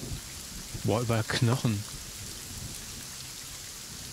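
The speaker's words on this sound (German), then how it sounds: "Zumindest regnet es." Rain in the video game Black Geyser keeps up a soft, steady hiss in the background, while someone briefly speaks over it.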